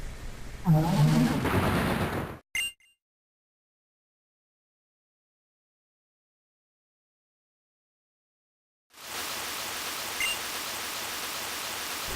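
Rain and wind from the Pokémon Tornadus in the video game Pokémon Black form a broad, hissing stormy wash that cuts off into a long silence and then returns, steady and fairly loud.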